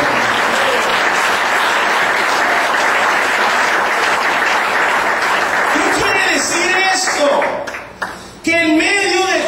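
Church congregation breaks into loud, sustained applause during a Spanish-language service, dense clapping filling the space for several seconds before tapering off, then giving way to a voice and shouts near the end.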